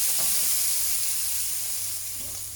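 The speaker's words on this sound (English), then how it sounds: "We add in our bacon, which will release its beautiful smoky porky oil." Dry cured bacon frying in a pan, heard as a steady close hiss and sizzle that fades slightly toward the end, with no voices.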